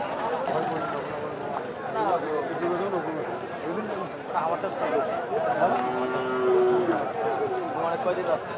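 Cattle low amid a busy cow market in Bangladesh, with a long moo rising over a dense crowd of people talking nearby.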